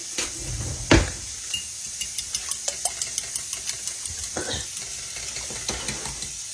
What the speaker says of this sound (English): Let me get me out a fork to beat them up real good.